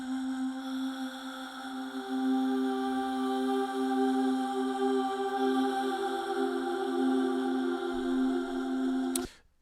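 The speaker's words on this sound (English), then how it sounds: "Some female vocal samples" Layered female vocal samples form a cinematic intro, sustained pitched tones stacked in harmony and holding steady and loud, then cutting off abruptly near the end.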